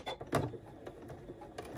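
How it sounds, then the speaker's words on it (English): A sewing machine stitching through all layers of a fabric two-bottle wine tote, heard as quiet, close mechanical ticks and clicks in an uneven run, fairly faint with no talk. "And again, we're stitching through all layers."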